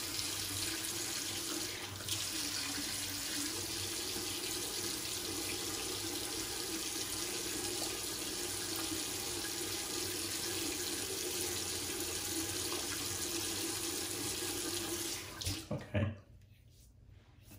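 Tap water runs steadily into a sink while a face is rinsed after shaving with Haslinger shaving soap, a continuous close splashing rush that cuts off abruptly near the end.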